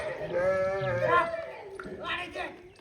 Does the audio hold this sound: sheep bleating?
yes